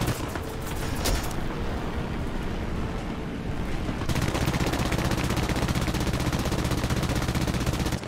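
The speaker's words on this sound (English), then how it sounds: "shoot at me, sir, with that beautiful MG of yours." Tank machine gun fire in a video game, sustained rapid bursts of automatic gunfire rattling throughout, loud and close, with a brief heavier boom near the start and no talk.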